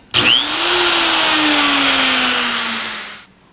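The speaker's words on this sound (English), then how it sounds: "we're going to come in with a die grinder and just kiss those edges a little bit" A die grinder smooths the rough metal edges of a sign, starting abruptly with a sharp spin-up and then holding one steady, loud high whine for about three seconds before cutting off, with no talking.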